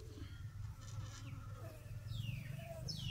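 Flies buzzing around a fly trap baited with dried beef offal, a continuous low drone from several insects nearby, with a few faint bird chirps in the background.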